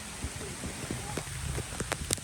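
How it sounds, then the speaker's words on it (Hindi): Heavy rain falls steadily in Miandam Valley, Swat, a dense wash of hiss with scattered louder drops, while a person talks over it. "नाज़रीन बारिश फुल तेज़ हो गई है"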